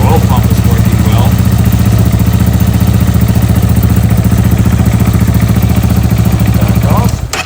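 A Honda Hawk 250 motorcycle engine with a newly installed oil cooler runs loud and steady close by, a continuous low idle-like drone with clattery texture that cuts off near the end.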